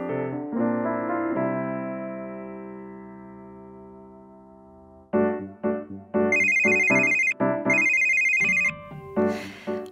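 A telephone rings with a bright electronic ringtone, repeating in loud bursts over a melodic musical intro before the call is answered.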